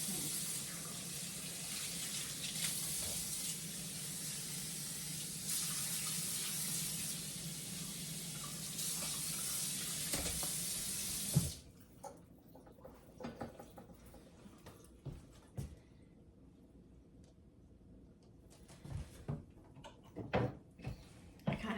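Tap water runs steadily into a sink while food is rinsed beneath it, a broad even rush lasting about eleven seconds before it cuts off, followed by quieter clatter and small handling noises.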